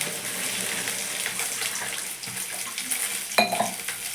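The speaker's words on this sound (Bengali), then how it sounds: "এবার জল দিয়ে দেবো" Water splashing and running into a cooking pan of fried spices for pomfret fish curry, a steady wash of noise with a sharp metallic clink near the end.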